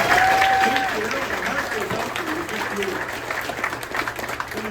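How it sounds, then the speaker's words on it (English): A luncheon crowd applauds after the national anthem is sung, a broad, sustained round of clapping that fades slightly, with a voice speaking over it. "Can we give her one more round of applause?"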